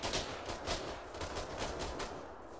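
Sustained suppressive gunfire in the military video game ArmA 3 rattles as a dense run of rapid, loud bursts, with shots overlapping continuously and no voices.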